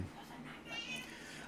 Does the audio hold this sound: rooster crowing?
no